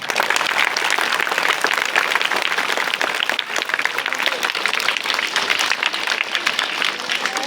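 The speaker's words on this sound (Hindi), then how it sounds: "सभी स्टूडेंट्स के लिए जिन्होंने प्रिपरेशन किया था, एक बहुत ज़ोरदार तालियां हो जाए।" Loud applause from a school audience, honoring the teachers and students who prepared for an exam event, with dense sustained clapping that holds steady from start to finish at close range.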